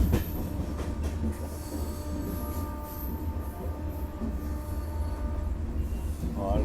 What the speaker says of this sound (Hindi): ये मेरे ख्याल से मुझे श्रीधाम एक्सप्रेस लग रही है, दिल्ली को जाने वाली।